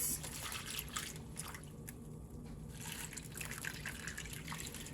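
Seasoning liquid poured down the sides of a Crockpot around a beef roast, a steady near splashing and trickling that runs the whole time with brief dips.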